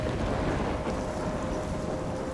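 A thunderstorm in the video game Life Is Strange, a dense, continuous wash of heavy rain with deep rumbling underneath, steady and loud throughout, with no talk.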